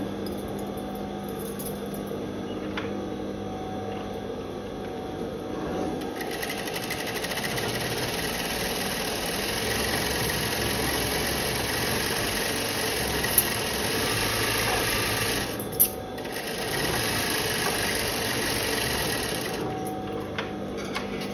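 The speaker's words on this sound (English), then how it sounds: "You definitely save time working with an industrial machine." An industrial sewing machine runs fast in a steady, loud whirring stitch, pausing briefly a few times before resuming, with a couple of sharp clicks along the way.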